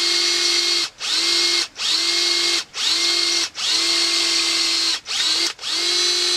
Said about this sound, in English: I believe this is a 1/16 drill bit on this drill.